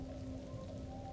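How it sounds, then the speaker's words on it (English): Storm rain patters steadily against a window of a house, a constant hiss with a low rumbling undertone and faint tonal hum, no voices. "the swirling rain rapped against the window outside, crescendoing as the wind gusted harder"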